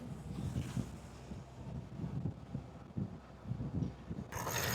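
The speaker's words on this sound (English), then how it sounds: "Very windy, but hopefully it's good." Wind gusts buffet the microphone on a sailboat out on a bay, a steady rushing roar with low rumbling and faint water sounds.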